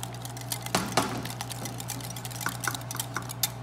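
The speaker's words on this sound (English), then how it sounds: "all you have to do is whisk it all together" Whisking a smooth, creamy dressing together in a bowl, a steady run of light, quick clicking strokes over a constant low hum, close and moderately loud, with no talk.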